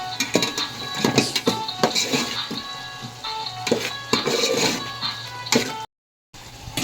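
Fish pulusu in a pot is stirred after salt goes in: a spoon scrapes and clinks against the metal in quick, repeated close strokes over a frying sizzle, with a brief drop to silence near the end.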